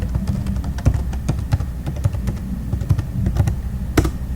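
A password goes into a computer keyboard as a steady run of crisp keystrokes, close and clear with a slightly louder tap near the end, and no one speaks.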